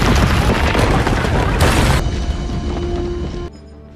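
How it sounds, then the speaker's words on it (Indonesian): A car blowing up in the action film Olympus Has Fallen: a loud, dense boom and crash rolls for about two seconds, then a heavy rumble slowly decays and cuts off. "melihat sebuah mobil meledak"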